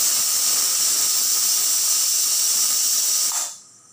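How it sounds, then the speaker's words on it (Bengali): A pressure cooker whistle shrieks steadily while chana dal cooks, a loud continuous steam hiss lasting several seconds before cutting off abruptly near the end, leaving quiet. "এই তো আমার সিটি চলতেছে।"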